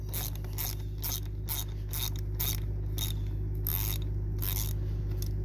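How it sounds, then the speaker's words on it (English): A wrench loosens the nut on a battery terminal in a Jeep Renegade, giving a quick run of close ratcheting clicks and small metallic scrapes over a constant low hum. "Just loosen the nut."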